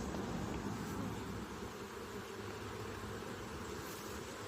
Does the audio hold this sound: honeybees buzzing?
yes